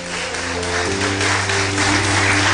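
A church congregation applauding, a steady broadband clatter of clapping under a sustained organ or keyboard chord, fairly loud and continuous.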